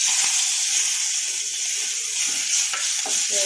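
Thuthuvalai leaves frying in a little oil in a hot pan, a steady close hiss of sizzling that runs throughout with a few soft stirring scrapes and taps.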